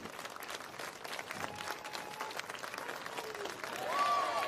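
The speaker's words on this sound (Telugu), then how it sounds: "అందరూ ఒక్కసారి నించొని వాళ్ళ కోసం చప్పట్లు కొడదాం" An audience claps for Kalaripayattu martial art performers at an event in Nagole, a steady wash of applause that swells toward the end, with voices mixed into the crowd.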